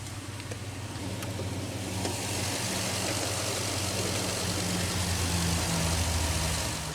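A 2006 Toyota Tundra SR5 Access Cab with its naturally aspirated iForce 4.7-liter V8 idles in a steady, even low rumble with a constant hum, close and unbroken for the whole stretch, with no voices.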